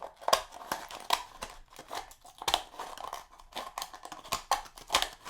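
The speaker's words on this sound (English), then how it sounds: "you're going to take your scissors and you're just going to go ahead and cut all the way around so that there's no bottom" Scissors cut all the way around a paper cup to remove its bottom for a cardboard skee ball game, giving a run of close crisp snips and crinkly paper crunches in an uneven rhythm.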